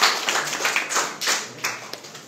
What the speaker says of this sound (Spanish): vamos a agradecer a este grupo con un voto de aplauso,